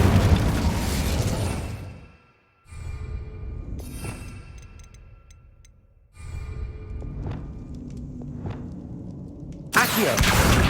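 Incendio fire spell bursts in Hogwarts Legacy, several loud whooshing, booming blasts separated by brief gaps, with crackling fiery tails and a sharp final burst.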